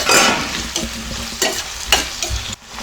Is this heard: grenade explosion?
no